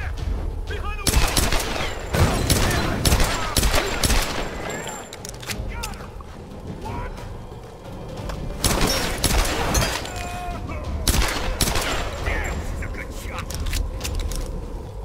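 Gunfire in the Tomb Raider video game, loud repeated bursts of close, sharp shots and rapid volleys over fifteen seconds with a steady game soundscape underneath and a voice speaking over it.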